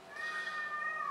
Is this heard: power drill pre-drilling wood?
no